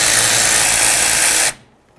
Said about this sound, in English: we're going to continue on to removing our banjo bolt